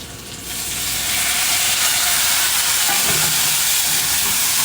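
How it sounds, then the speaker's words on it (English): Onions caramelizing in a hot pan give a loud, steady sizzle and hiss that builds in the first second and holds constant, close and dense, with no talking over it. "I'm trying to caramelize these onions, cook them down a little bit before I throw the meat in here"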